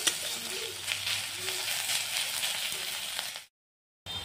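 Ginger, garlic, onion and two green chilies fry in hot oil for bhorta, giving a steady close sizzle with occasional stirring, which cuts out briefly near the end before resuming.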